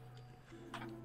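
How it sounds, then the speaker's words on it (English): Grandfather clock with no face or hands ticking inside a room in the puzzle game We Were Here, a faint steady tick under low ambient hum and scattered soft game sounds. "There's a grandfather clock in here with no face and no hands"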